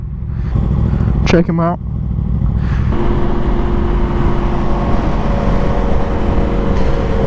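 A sportbike motorcycle rides along with a steady, loud engine drone and road rumble throughout, on the way to a car meet, while someone speaks briefly over it.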